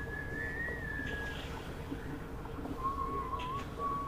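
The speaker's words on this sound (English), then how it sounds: "He is just whistling." A thin, steady whistled tone holds for about a second, pauses, then returns at a lower pitch over a constant low background rumble.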